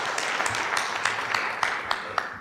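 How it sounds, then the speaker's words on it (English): Audience applause at a school competition between Aquinas High School and Machakos Boys, a steady wash of scattered clapping with occasional sharper claps standing out, moderately loud and continuous. "Let's give them a round of applause."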